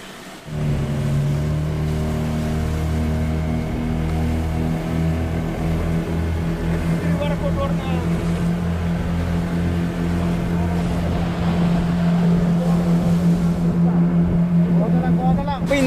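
Steady, loud drone of a deep sea fishing boat's engine running at sea, with sustained low harmonic tones holding continuously throughout and a brief swell of noise near the end.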